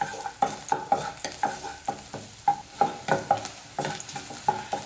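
Chopped garlic sizzles in oil in a kadai while a spoon stirs it in regular strokes, each one a scrape and clink over a steady frying hiss, close and clear.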